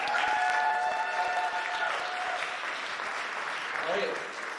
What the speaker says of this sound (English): Can I get one round of applause for our participants?